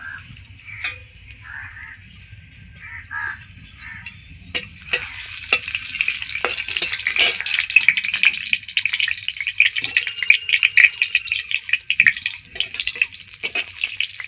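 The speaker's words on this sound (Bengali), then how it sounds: "দিয়ে দিচ্ছি সর্ষার তেল ফোড়নে দিয়ে দিচ্ছি দুটো শুকনো লঙ্কা দুটো তেজপাতা" Dry red chillies and bay leaves hit hot mustard oil for tempering cabbage curry, a steady close sizzle and crackle rising sharply after a few quiet seconds with a spoon stirring, no talk.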